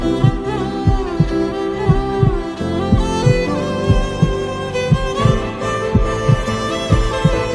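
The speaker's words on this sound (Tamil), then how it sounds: "ஒவ்வொரு நொடியும் எகிரிய ஹார்ட் பீட்" A heartbeat sound effect beats as a steady series of low, dull double thumps, paced about once a second over a continuous droning musical backing.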